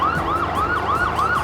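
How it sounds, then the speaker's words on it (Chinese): A cartoon fire truck's siren wails in quick, regular rising-and-falling sweeps, loud and close, repeating about every few tenths of a second with nothing else over it. "勇敢的消防车队来了"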